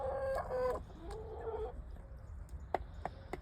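Chickens cluck at an allotment, with a few drawn-out clucks early on and then sharp, scattered calls fairly close by over a quiet outdoor background.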